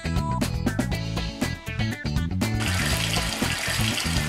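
A faucet turns on in a cartoon hospital surgeon game for children, where a hippo doctor washes up before surgery; a steady rush of running water starts midway, following a stretch of playful background music.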